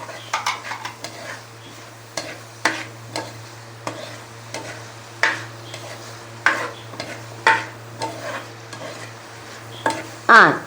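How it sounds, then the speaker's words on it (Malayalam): Vegetables sautéing in a pan for a Kerala tamarind curry of dried turkey berry and okra, with a utensil scraping and stirring in regular strokes over a soft sizzle, close and clear with no talking. "ഒന്ന് വഴന്ന് വരട്ടെ."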